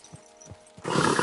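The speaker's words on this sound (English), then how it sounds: "Easy, good horse." Horse hooves thud in a few spaced clops, then a louder, rough burst follows that could be a whinny or snort.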